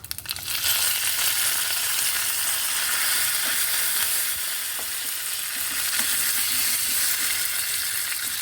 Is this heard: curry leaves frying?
yes